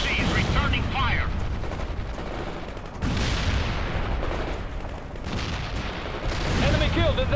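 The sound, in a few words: gunfire in World in Conflict video game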